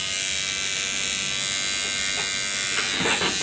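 A tattoo machine buzzes close and steady while it puts in fine lines during a tattoo restoration. The high electric whine runs without a break.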